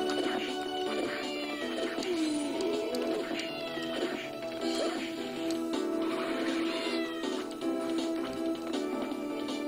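A cat meows repeatedly in the video game Castlevania: Order of Ecclesia, several rising and falling calls over game music and effects.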